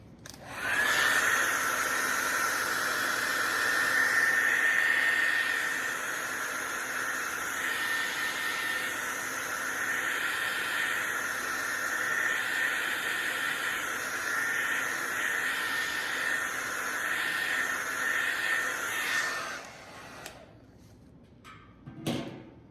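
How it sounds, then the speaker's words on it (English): A hair dryer drying acrylic paint runs with a steady, loud whining hiss for about twenty seconds, its pitch wavering slightly as it moves, then cuts off and leaves a few faint knocks. "take a hair dryer and dry it"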